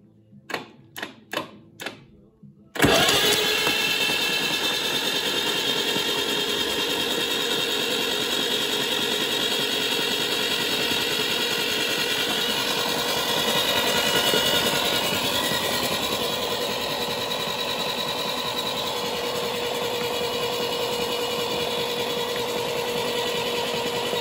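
Seized Leyland tractor engine, spark plugs out and oil in the cylinders, cranking over in a steady loud mechanical clatter that runs continuously for over twenty seconds after a few brief clicks at the start.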